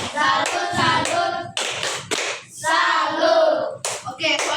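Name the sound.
children doing the 'tepuk salut' clapping chant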